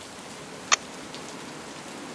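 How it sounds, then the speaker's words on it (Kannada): Heavy rain falling, a steady soft hiss of drops on surfaces, faint and even with one brief sharp click partway through. "ಮಳೆ ಬೇರೆ ಜೋರಾಗಿ ಬರ್ತಾ ಇದೆ"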